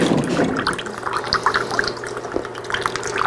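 Cooling water runs through the tubing of a 2-inch glass reflux column still, a close continuous bubbling trickle with gurgles over a low steady hum.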